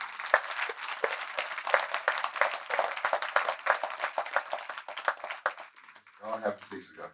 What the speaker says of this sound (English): Mariah, come on, give her a round of applause,